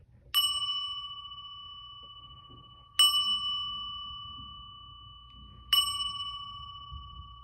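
A bell is struck three times at steady intervals, each strike ringing out clear and bright with a long decaying tone, over a low background rumble and no talk.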